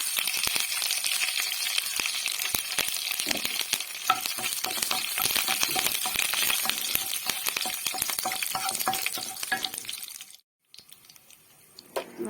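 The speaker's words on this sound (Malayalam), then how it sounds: "അതിനോടൊപ്പം നമുക്ക് ഇച്ചിരി കറിവേപ്പില ഇടാം." Curry leaves and red chilli sizzling in hot coconut oil, a loud dense crackling fry heard up close and continuous, briefly dropping out near the end before resuming more softly.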